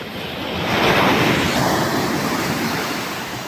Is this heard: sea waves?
yes